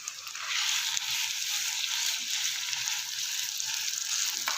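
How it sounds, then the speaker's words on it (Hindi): Half a kilo of finely minced keema frying in a pan with ginger-garlic paste for a keema karela dish: a steady, close, bright sizzling hiss that holds evenly throughout, with no talking. "अच्छे से जो है कीमे की भुनाई कर लेनी है"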